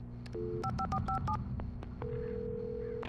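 A run of DTMF keypad tones dialing a telephone in Alan Wake Remastered, short paired beeps in a quick rhythm, then a longer steady tone, clear over a low ambient game background.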